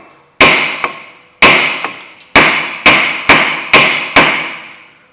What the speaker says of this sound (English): So I just want to just tap things up a little bit.